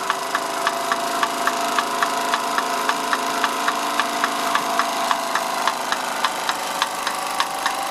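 A 1930s Bing 10-147-2 twin-cylinder toy steam engine running under gas firing, with a fast, even ticking beat over a continuous hiss, close and steady throughout.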